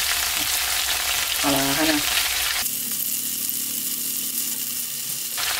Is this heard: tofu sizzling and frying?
yes